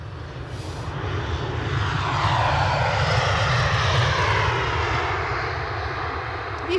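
A Ryanair airliner bound for Malaga takes off from Edinburgh Airport in icy conditions, its engines producing a broad, steady roar that swells and then slowly fades, loud and alone without speech.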